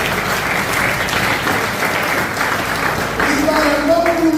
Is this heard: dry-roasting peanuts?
no